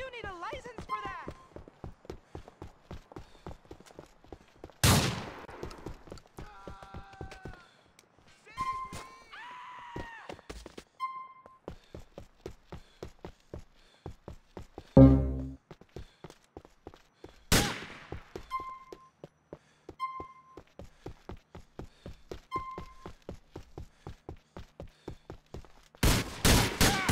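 Police gunfire in GTA IV: Episodes from Liberty City, several loud sharp shots and bursts scattered among repeated footsteps and game sounds, with in-game voices talking in between.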